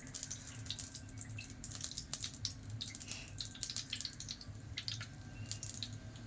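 Cooking oil trickles and splashes into a pan being prepared for fish curry, a soft, close, uneven pouring with small drips.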